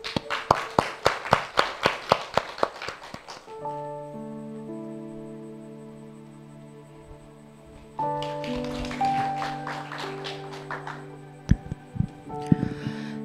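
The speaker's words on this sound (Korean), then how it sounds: "박수로 초청하겠습니다" Congregation at a Sunday church service clapping in a brisk burst of sharp, separate claps that stops after a few seconds, giving way to sustained keyboard or organ chords, with a few scattered claps returning near the end.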